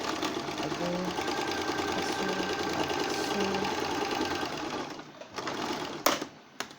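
A sewing machine runs steadily at close range, stitching darts into a skirt with a fast, even mechanical whir. It stops near the end, followed by a few light clicks and handling noises.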